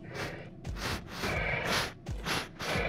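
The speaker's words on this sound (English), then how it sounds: "I can sniff to see where you are." A werewolf in Horror Legends sniffs in repeated short, breathy snorts, about five or six close bursts at an uneven rhythm, with no talk.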